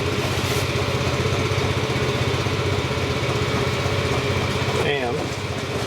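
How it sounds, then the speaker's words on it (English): A generator engine runs steadily at an observatory, giving a loud, continuous, throbbing drone close by. A voice is heard over it near the end. "Now we're running on generator power."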